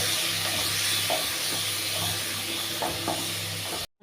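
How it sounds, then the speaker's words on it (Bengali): Moong dal with fish head, salt and green chillies sautéing in a pan, a steady close sizzle and hiss with a few soft stirring scrapes, ending in a brief drop to silence. "এবার এটাকে ভালো করে একটু কষিয়ে নেব।"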